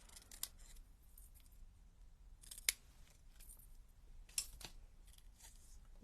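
Scissors cut paper for handmade card making, giving a few faint, crisp snips spread over a quiet background, with no voices.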